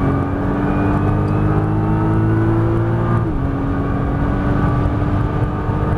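A Nissan GT-R accelerates hard on a Las Vegas racetrack, its engine a loud, constant whining roar that rises steadily, then dips briefly at a shift before pulling on, with no voices over it.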